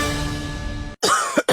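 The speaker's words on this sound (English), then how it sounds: "I can't sleep with this cough." Two quick dry coughs from a person with a cold, heard close and clear after a stretch of steady background hum.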